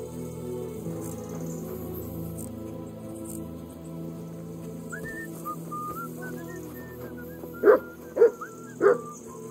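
A dog in the medieval game Kingdom Come: Deliverance II gives three quick, close barks near the end, over a quiet ambient bed of insects and soft countryside tones.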